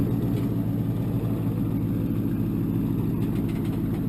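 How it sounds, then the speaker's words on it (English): A Corvette Stingray sits at idle near a car transporter, its engine giving a steady, continuous low rumble that holds evenly throughout, close and fairly loud with no talk. "Wow, that's a Stingray, but that thing sounds good."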